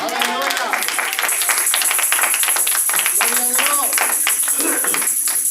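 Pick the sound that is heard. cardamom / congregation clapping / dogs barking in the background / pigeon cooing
congregation clapping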